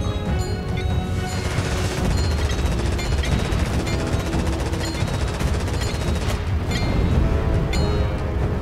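Naval gunfire from warships during a multiplayer navy battle in Stormworks, a dense, continuous barrage of loud booming shots and rapid firing that fills the whole stretch without pause.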